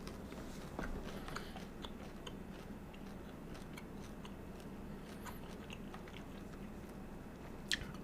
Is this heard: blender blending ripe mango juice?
no